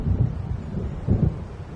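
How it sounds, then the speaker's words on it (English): Thunder rolls through a stormy night in the video game Alan Wake, two low rumbling swells with a fainter murmur between them, carrying no speech. "It seems there's a storm coming."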